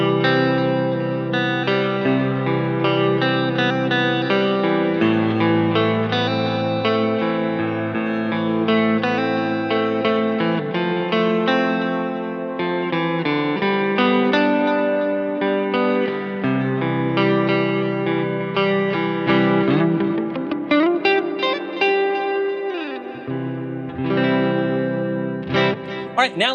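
Electric guitar played through delay and reverb pedals running in parallel, giving a loud, sustained wash of chords and notes with trailing repeats and a swelling, pitch-bending passage near the end, no voices.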